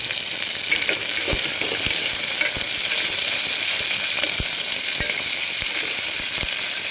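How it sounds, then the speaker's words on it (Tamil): Onions sauté in oil in a pan for biryani, with a loud, constant sizzle and sharp spatula scrapes against the pan at a regular rhythm. "இது வதங்கணும் இல்லையா, அதனால இன்னும் கொஞ்சம் ஆயில் விடும்"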